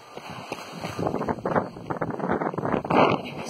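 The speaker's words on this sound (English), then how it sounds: "I hope you can hear me with this wind." Outdoor wind buffets a microphone in uneven gusts, giving a loud, rumbling, rushing noise that swells and fades with no clear voice.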